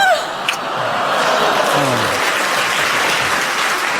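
A studio audience at a radio panel comedy show breaks into sustained applause, a dense, steady wash of clapping that holds at an even, loud level with a brief voice at the start.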